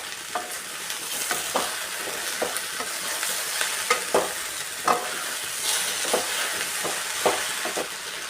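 Tomato being stirred and sautéed in a pan for a Kerala-style side dish, with sharp spoon scrapes repeating every half second or so over a constant close sizzle.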